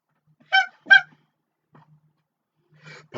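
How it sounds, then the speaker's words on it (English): A panicky goose gives two loud, close honks in quick succession, then a faint call and a fainter pair of honks after a silent pause. "Panicky goose, panicky goose"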